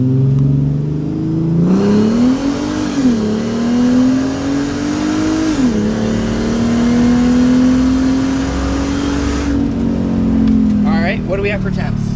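A car with an FI intercooler setup accelerates hard in first gear with agility mode selected and stability control off, the engine note rising in sustained revving pulls with brief dips at shifts, loud and close.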